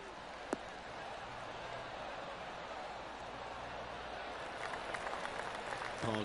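Polite golf clap from a gallery crowd in the video game PGA Tour 2K23, a steady smattering of applause that swells slightly near the end with a few sharper claps, mid-distance and moderately loud.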